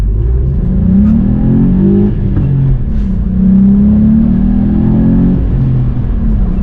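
A VW Up GTI accelerates hard in first gear from a standstill, its engine note rising and droning loud and close from inside the cabin, with a brief dip as revs shift, no talk.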